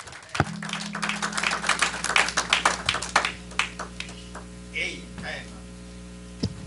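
A church congregation breaks into a burst of dense hand clapping that thins into scattered claps after a few seconds, over a steady electrical hum, with voices mixed in.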